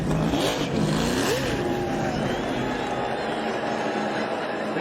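NASCAR stock cars race on a wet track at New Hampshire, engines roaring and revving past with a broad, continuous din, crowd noise and commentary voices underneath.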